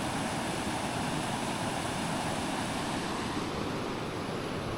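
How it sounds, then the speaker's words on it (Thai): Floodwater from an hour of rain rushes through a rural village in Laos, a loud, steady broadband roar of churning water that runs unbroken throughout with no voices. "ฝนตกชั่วโมงหนึ่งน้ำป่าไหลมาแล้ว"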